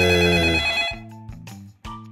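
A telephone rings loudly for under a second, then a few short electronic tones follow in a quiet, steady pattern.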